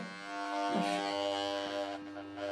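An electric hair clipper buzzes steadily at close range while cutting hair, giving a constant harmonic hum with slight shifts as it moves through the hair.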